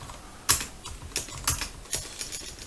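Sparse keystrokes on a computer keyboard while entering a command, a handful of separate close clicks spaced irregularly over under three seconds.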